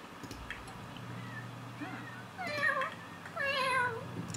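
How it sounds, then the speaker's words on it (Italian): Several kittens meow in The Sims 4, high plaintive cries that come in two louder bursts over a steady low game hum, with faint background sounds before them. "Sentite come piangono tutti questi gattini, come miagolano."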